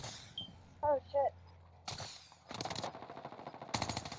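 Rapid video game gunfire from a battle royale match, several bursts of quick shots that grow denser toward the end, mixed with players talking and reacting over voice chat.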